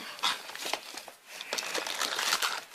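Cardboard and plastic packaging crinkle and tear continuously and up close as a box holding a Yokai sticker maker toy is opened by hand, with busy rustling throughout.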